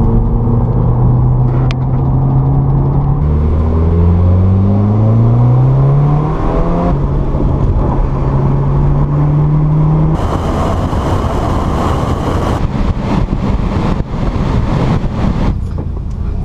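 A 2015 Subaru WRX driving, its engine droning loud and close with rising, shifting pitch as it accelerates through gears, a steady road rumble underneath.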